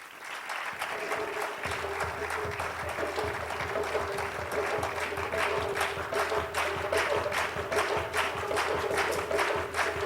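A crowd applauds steadily and loudly as traditional percussion and dance performers come onto a stage at a live flash mob session, the dense clapping sustained throughout with a low drone beneath.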